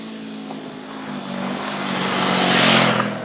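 Honda CB500X (2019) motorcycle engine on a ride in Tenerife, a steady droning hum that swells louder with wind rush near the end, with no one speaking.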